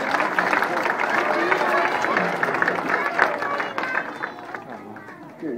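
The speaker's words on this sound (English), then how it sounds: "A big hand clap for Gus the Bunny" Audience at a kids' day event claps, a busy patter of hands and crowd chatter that holds steady, then thins toward the end.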